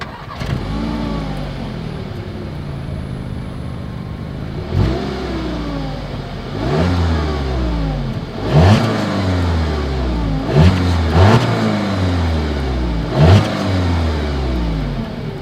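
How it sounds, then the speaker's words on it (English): A 2020 Audi A3's dual exhaust barks through several sharp revs, engine climbing and falling repeatedly over a steady idle, loud and close with no speech. "As always, here is that exhaust clip."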